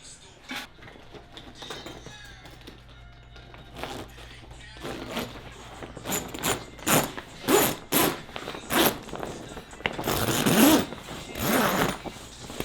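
Zipper being pulled along a fabric grow tent during setup, a series of quick rasping zips getting louder and denser toward the end, with faint background movement.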